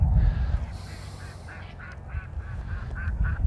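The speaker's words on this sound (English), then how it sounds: "Well, at least the ducks are following her." Ducks following cattle on a damp, breezy day quack in a string of short nasal calls, about eight to ten evenly spaced, at middle distance over low rumbling wind and outdoor background noise.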